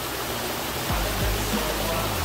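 Water pours down in a constant, loud rushing roar, a close waterfall splashing steadily with no pauses.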